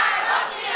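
Opposition members in parliament chanting slogans and shouting in protest, a dense continuous crowd roar filling the whole moment without a break.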